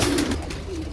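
Young breeding pigeons in a loft give a soft, low coo, close by and brief, with a faint murmur of other birds behind it.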